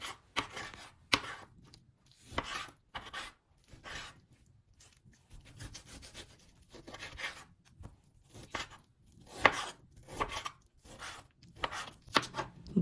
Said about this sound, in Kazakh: Етімізді осындай ірілеу қылып турап аламыз.